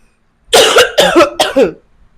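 Three harsh coughs in quick succession, loud and close, each a raspy burst with brief gaps between them.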